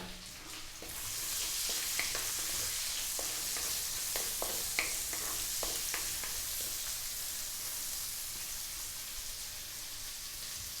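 Onion sautés in a hot pan for Filipino humba, a loud continuous sizzle with scattered ticks and stirring scrapes. It stays steady and close, with no voice.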